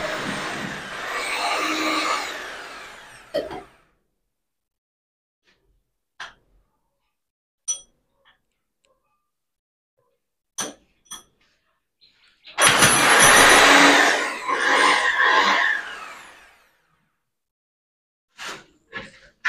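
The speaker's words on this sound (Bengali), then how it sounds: "দেখতে পাচ্ছ মেশিন চালু হয়ে গেছে।" A wall cutting machine starts up and runs in two loud, harsh whining bursts of a few seconds each, separated by silence broken by sharp clicks and knocks.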